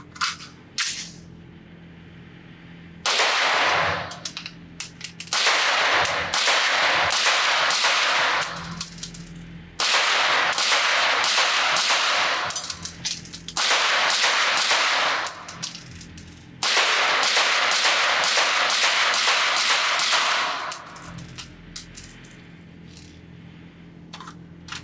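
A magnum rifle with an OSS HX-QD Magnum Ti suppressor fired rapidly outdoors, three loud bursts of fast, evenly spaced shots with cracking reports and pauses between, no talking.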